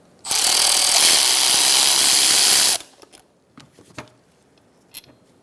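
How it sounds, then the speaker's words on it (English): A power ratchet runs continuously for about two and a half seconds, loud and close, while removing a rear brake caliper bolt on a 2013-2022 Buick Encore, followed by a few scattered metallic clinks and taps. "Using a pry bar to hold it down, I'm going to take out this bolt"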